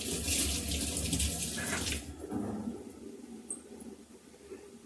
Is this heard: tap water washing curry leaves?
yes